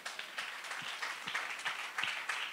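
A church congregation applauding God, steady rhythmic clapping from a crowd heard at moderate distance, fairly faint and continuous.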